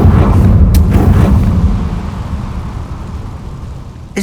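A Confringo fire spell explodes in the Hogwarts Legacy video game, landing as a loud, deep boom whose heavy low rumble rolls on and slowly fades over several seconds.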